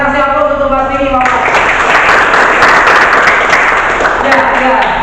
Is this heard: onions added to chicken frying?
no